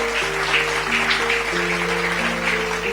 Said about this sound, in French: Acclame très fort pour le Seigneur Jésus.